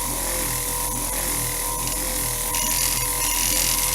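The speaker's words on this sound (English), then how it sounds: "when you're buffing with a buffer like this, you want to make sure that the buffing compound does not dry out" A power buffer runs steadily against a headlight lens coated with buffing compound, a constant close whirring motor drone with grinding friction noise that holds level throughout with no talking.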